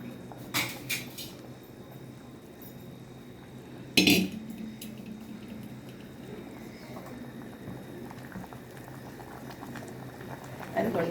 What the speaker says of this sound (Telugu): లోపల బాగా ఉడికేది పెసరపప్పు చారు